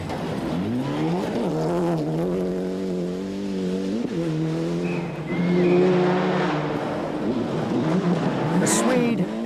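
Mitsubishi rally car from the 1995 Rally Australia racing along a tree-lined gravel stage, engine droning loudly and steadily with rising and falling revs and gear changes, heard up close throughout.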